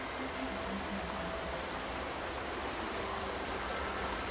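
Flowing water in the nature game Sounds of Eden, a steady broadband rush like a stream or small waterfall, continuous and even with no voices.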